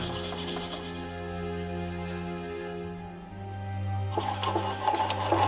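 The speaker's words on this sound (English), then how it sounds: "Using files, the opening is refined until it is the right size." A metal file rasps steadily against the opening of a hand-forged Viking-age iron padlock, with continuous close scraping strokes and a brighter, harsher rasp near the end, and no talking.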